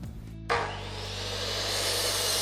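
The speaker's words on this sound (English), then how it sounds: "I will start cutting the slats to size." Miter saw cutting cedar slats to size for a window planter box: a low motor hum, then a loud, sustained whining cut that begins abruptly and holds steady, close up.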